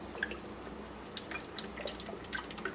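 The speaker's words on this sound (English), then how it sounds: "Before I start putting stuff in the pan, I like to put some toasted sesame oil in there." Toasted sesame oil poured into an unheated pan gives a faint, wet trickle with a few soft drips, quiet and close, with no talking.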